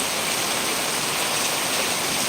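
Heavy monsoon rain pouring in Kozhikode district, a dense, steady roar of water falling close and loud, with no voices.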